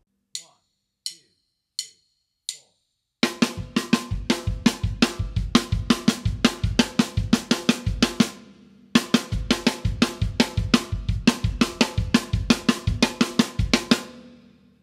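Drum kit plays a linear hand-and-foot syncopation exercise from Ted Reed's syncopation book, opening with four sparse clicks before a steady stream of crisp alternating hits and kick drum, close and loud, with a brief pause midway.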